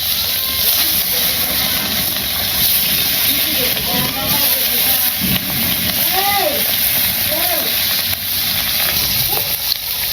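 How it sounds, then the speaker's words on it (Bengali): Fish dropped into hot oil in a village kitchen: a loud, steady hissing sizzle fills the whole stretch, with bubbling crackles and someone talking over it. "তেলটা গরম হয়ে গেছে, আমি মাছটা দিয়ে দিই।"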